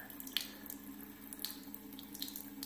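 Tap water runs steadily onto a QUIP sonic toothbrush over a sink, a close splashing flow with a few brighter drips, heard alone.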